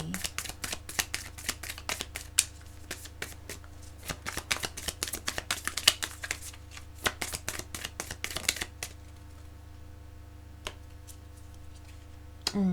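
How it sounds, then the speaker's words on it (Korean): Tarot cards are shuffled in quick, crisp bursts of riffling clicks for several seconds, then a few isolated card snaps and slides as cards are drawn, close by over a faint steady hum. "제가 보조 카드를 조금 뽑아보도록 할게요."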